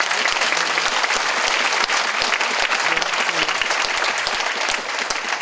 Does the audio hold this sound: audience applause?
yes